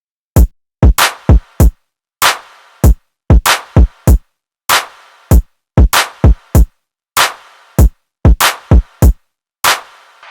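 Simple programmed drum pattern in FL Studio, loud punchy kick and snare hits landing in a repeating irregular rhythm with sharp attacks and short decays, separated by silence.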